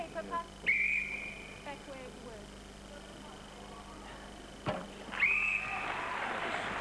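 A netball umpire's whistle during an international match blows two short shrill blasts a few seconds apart, over a low crowd murmur with faint clip-clopping thuds between.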